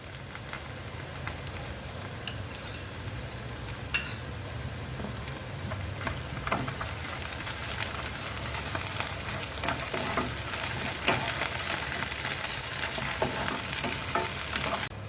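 Ginger garlic paste fries in a pan while being stirred, a steady close sizzle and crackle with occasional scraping, lasting throughout without any talking.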